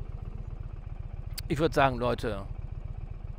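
An Indian Pursuit Dark Horse motorcycle engine chugs at low revs with a steady, even pulse that runs the whole time, while someone talks over the middle of it.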